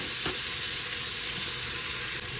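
Onions sauté in a pan with a dense, even sizzle that holds steady and close throughout, with only faint stirring beneath.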